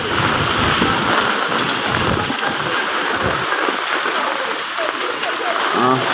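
Heavy rain pours during a storm on a knee-deep flooded street in Khulna, a loud, continuous roar of water close by, with rain drumming on an umbrella overhead.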